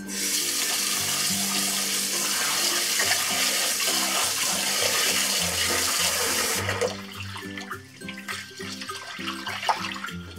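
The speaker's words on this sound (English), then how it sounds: "the next step is uh, washing and rinsing the rice" Rice for Cantonese sticky rice with Chinese sausage and mushrooms is washed under a steady, loud kitchen tap, water running continuously over the grains before the flow eases and splashes more unevenly near the end.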